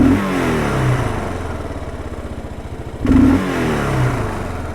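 A 2022 Kawasaki KLR650 with its airbox snorkel removed revs up loudly twice, close by. Each blip rises sharply off idle and drops straight back, and a steady single-cylinder idle thumps between the revs.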